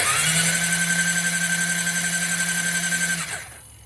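A retired Formula SAE race car on the crank button, its engine turning over with a steady whine and its fuel pump humming close by, both running evenly for about three seconds and then winding down to near silence.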